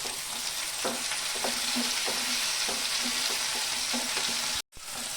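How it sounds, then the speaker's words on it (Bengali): Chopped onion and tomato fry in oil in a pan for a dried-fish chutney, a steady close crackling sizzle punctuated by regular stirring taps, ending with a brief cut-out. "টমেটোটা দিয়ে আমি একটু ভেজে নেব।"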